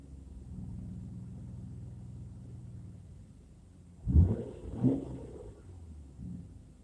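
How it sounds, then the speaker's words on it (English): A Haltech-tuned Nissan R32 GT-R engine idles near 1400 rpm with a vibration, a faint low steady rumble that swells in two short heavier surges before settling back. "that vibration at 1400 is not getting any better"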